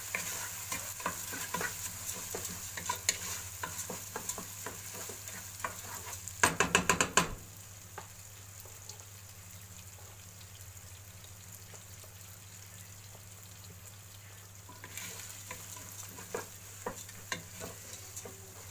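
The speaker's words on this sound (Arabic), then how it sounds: "هضيف بقى كمية الرز اللي معايا وهقلب تقلبتين" Rice is stirred into lentils in a pot for one-pot koshari, a soft scraping and sizzling with a louder burst of stirring midway, then quieter simmering and another light stir near the end, with no talking.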